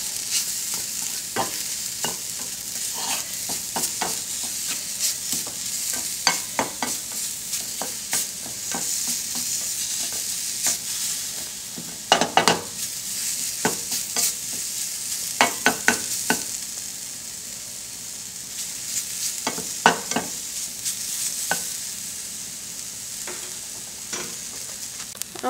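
Brown sugar mixture with plantain being stirred in a hot pan, a continuous soft sizzle broken by repeated sharp scrapes and knocks of the spoon against the pan, close by.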